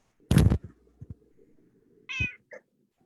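A cat meows twice, a loud, close, drawn-out cry followed after a pause by a shorter, higher meow and a brief chirp, with faint soft clicks in between.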